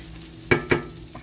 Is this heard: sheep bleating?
no